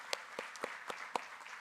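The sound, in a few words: audience applause at a KCD Kerala conference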